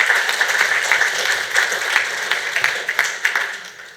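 Sustained applause from a crowd at a fundraiser event, steady dense clapping throughout with no speech over it.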